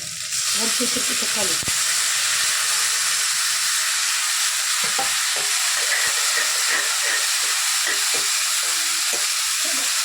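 Dried chili and tomato fry in hot oil in a pan for tomato rice, a loud, constant close-up sizzle and hiss with faint stirring and clinks beneath.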